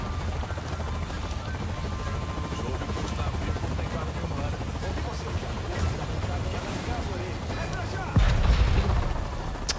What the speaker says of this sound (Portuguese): Ah, os helicópteros já chegou, cara.